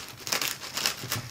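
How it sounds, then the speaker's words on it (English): An oversized plastic bag around a McIntosh C49 stereo preamplifier crinkles as it is opened, giving a few close, soft rustling bursts in quick succession, with no talk. "Simple nicks on the sellotape, ensuring, of course, that we're not damaging the bag, just the sellotape, gives us the ability to very, very easily open that bag"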